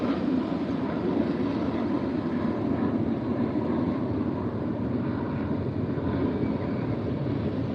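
An airplane passes overhead outdoors, a steady broad roar that holds at moderate loudness throughout without clear rise or fade, with no speech over it.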